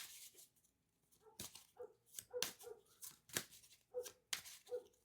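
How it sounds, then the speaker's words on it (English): A dog barks in short, repeated bursts at a moderate distance, with quiet gaps and some faint whimpering noises between barks. "Sorry about the dog"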